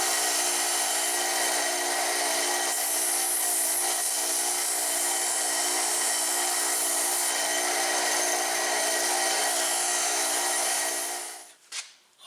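Steady, loud abrasive grinding cuts through an automotive brake line housing, a continuous harsh hiss with sparks that runs unbroken for about eleven seconds before stopping abruptly, followed by a couple of brief clatters.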